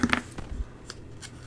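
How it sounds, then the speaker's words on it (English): Scissors trimming paper for a handmade junk journal, a few close, short snips and rustles of paper handling, quiet and without talk. "So I'm just getting the scissors."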